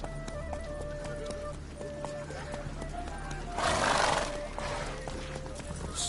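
Rapid hoofbeats of a galloping horse in a video game, a continuous close drumming with a snort or whinny, game ambience beneath and a brief swell of rushing noise midway.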